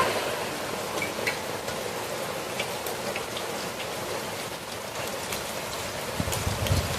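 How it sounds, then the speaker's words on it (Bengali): Heavy rain pours steadily outdoors with wind-driven gusts splashing, a dense continuous hiss of drops striking surfaces, close and even in loudness, with no voices. "বৃষ্টি হচ্ছে বন্ধুরা খুব, আর এখানে খুব ঝাপটা আসছে।"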